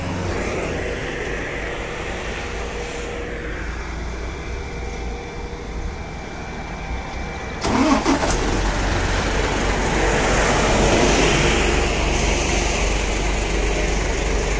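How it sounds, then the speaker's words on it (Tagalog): A truck on an expressway shoulder runs with a steady low engine rumble, and about halfway through a sudden jolt and louder surge suggest the engine catching and revving up, continuing as a heavy, even drone to the end. "Antarin ko yung truck."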